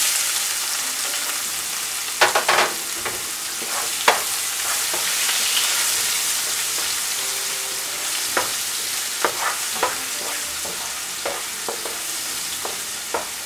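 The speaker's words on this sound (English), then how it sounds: "Let it heat. And now we will add onions." Onions frying in plenty of hot oil for a Kathiyawadi eggplant curry give a steady close sizzle, broken by sharp pops and occasional spoon stirs, with no voices.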